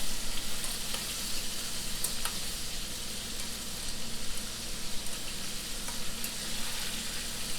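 Shrimp for firecracker shrimp fry in a pan with a steady, dense sizzle and crackle that stays close and even throughout, with no talking over it.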